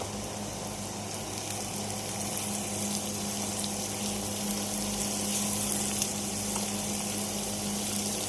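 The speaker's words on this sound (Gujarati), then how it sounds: "ડુંગળી આપણે લાઇટ બ્રાઉન થાય ત્યાં સુધી શેકવાની છે." Chopped onion frying with garlic in a pan, a steady soft sizzle and hiss held evenly throughout with no voices.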